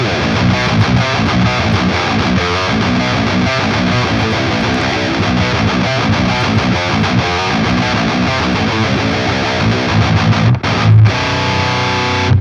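Heavily distorted electric guitar runs through a ToneForge Jeff Loomis amp plugin with a Mendel IR cabinet, playing loud, dense chugging riffs continuously before a brief pause and a final ringing hit.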